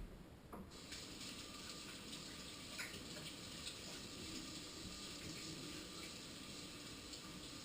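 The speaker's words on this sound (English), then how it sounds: "Now I'm going to step over here and Rinse my hands off." Tap water running steadily into a sink as hands are rinsed, a constant faint rushing stream with a brief start at the beginning.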